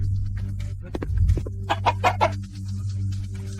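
Chickens cluck in a rural village yard, a run of loud, close squawking bursts over a steady low hum, with no talk.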